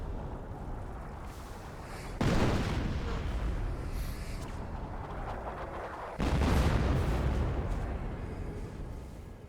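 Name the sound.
sector artillery barrage in video game Company of Heroes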